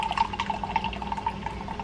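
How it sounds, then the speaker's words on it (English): Water poured into a French press for coffee, a close, steady trickle with small dripping splashes against glass, lasting under two seconds with no talking. "Now I will pour the French press on."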